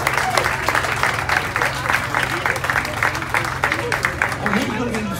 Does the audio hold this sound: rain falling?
no